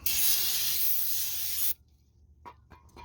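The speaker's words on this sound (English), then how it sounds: "Spray some brake clean on it." A loud, continuous aerosol hiss of brake cleaner sprayed up close on a 2013 Subaru Outback brake rotor for about a second and a half, then it cuts off, leaving faint handling noises.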